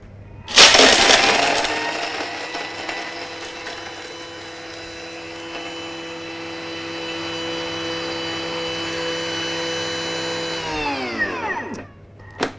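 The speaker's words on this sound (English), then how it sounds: "Thermomix is going to work hard now" A Thermomix grinds rock-hard caramel into fine powder: a loud crunching start settles into a steady high motor whine that holds for about ten seconds, then winds down as the blades stop.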